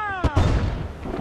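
A mortar fires during naval combat in Assassin's Creed IV: Black Flag, a single loud booming blast that rolls into a short rumbling tail.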